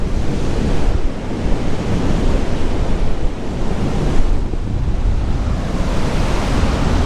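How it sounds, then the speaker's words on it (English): Waves of the Southern Ocean roar on a remote Australian coast by the Bilbunya Dunes, a loud, continuous surge of surf mixed with gusting wind that buffets the microphone. "There it is, the roaring Southern Ocean."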